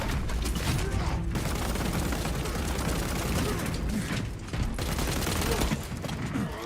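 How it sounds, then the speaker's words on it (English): Space Marine 2 combat has a frag grenade thrown and a magazine swapped amid a dense, loud barrage of gunfire and clattering mechanisms, with short dips in the din. "Throwing frag grenade. Swapping magazine."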